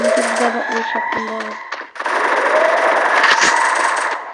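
Video game gunfire, bursts of rapid automatic shots amid game sound effects, loud and close, with a brief drop before a dense sustained stretch of firing, and a voice talking over part of it.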